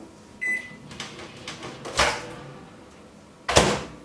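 Microwave oven control panel buttons are pressed in a home kitchen while someone tries to cancel a malfunctioning cycle, giving a few sharp clicks and beeps, with two louder presses standing out over a quiet room.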